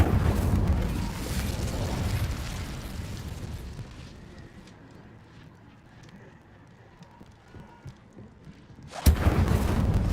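A fire spell cast in the game Hogwarts Legacy whooshes and rumbles loudly, fades into a quieter crackling stretch, then bursts again with a sharp flaring blast near the end.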